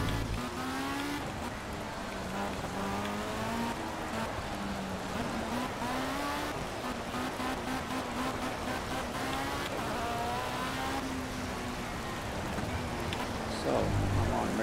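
Heavy pouring rain hisses across a wet Barcelona circuit in a racing video game while a race car on slick tyres drones steadily beneath it, the engine note rising and falling throughout.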